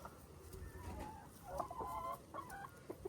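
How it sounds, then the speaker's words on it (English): Homestead yard chickens cluck softly and irregularly while pecking at old bread, faint, low murmurs over a quiet outdoor background. "These chickens pick up the bread."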